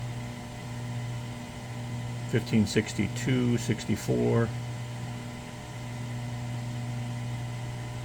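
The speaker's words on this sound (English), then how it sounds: "again, the microwave's running." A microwave oven runs off an AllPowers R1500 portable power station, giving a steady low electrical hum through the whole stretch, with a brief burst of nearby talking in the middle.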